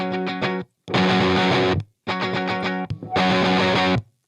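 Electric guitar through a Drunk Beaver Bat Cold War RAT-style distortion pedal plays crunchy, near-fuzz chords in four loud strummed bursts separated by brief silences, the second and fourth held longer.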